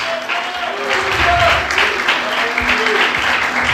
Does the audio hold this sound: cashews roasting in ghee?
no